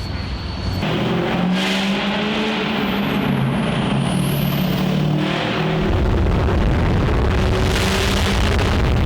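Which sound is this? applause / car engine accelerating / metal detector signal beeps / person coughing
car engine accelerating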